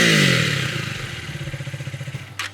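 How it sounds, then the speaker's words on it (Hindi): A 2024 KTM Duke 250 motorcycle revs loudly and then falls back to a close, throbbing idle pulse, with one short sharp blip near the end. "let's start with the exhaust note"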